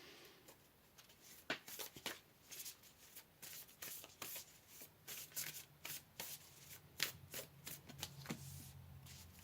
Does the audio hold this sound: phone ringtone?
no